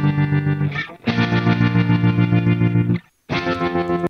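Pair of distorted electric guitars panned hard left and right, chugging loud sustained chords with a pulsing tremolo wobble, broken by a short gap and a full stop before a final burst resumes.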